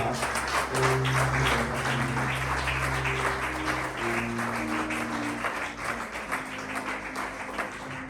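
A church congregation applauds the Lord in a sustained burst of clapping that stays loud and even throughout, with murmured voices and faint music mixed underneath.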